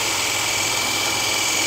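Belt grinder running while thinning a Takeda nakiri knife, a steady loud high whine and whir of the belt with no pauses, close up.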